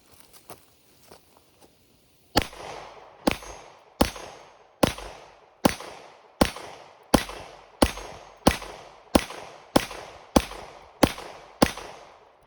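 Fourteen pistol shots ring out outdoors on a property, evenly spaced at a steady pace, each sharp crack followed by a short echoing decay, after a few faint taps at the start.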